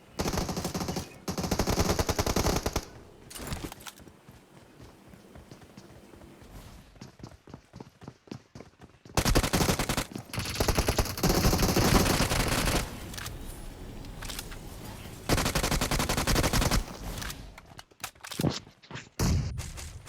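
Gunfire from the video game PUBG Mobile: loud bursts of automatic fire and single shots come in clusters, separated by quieter stretches with faint game noise and no voices.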